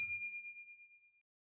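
A single bright notification bell ding, a clean metallic strike whose ringing tone decays smoothly over about a second into silence, heard alone.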